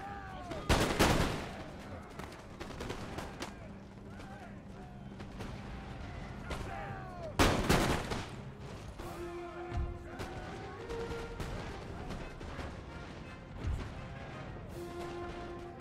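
Musket volleys from a regiment in Empire: Total War crack out in heavy bursts, two big loud blasts and several smaller shots rolling over a background battle din, with scattered distant pops throughout.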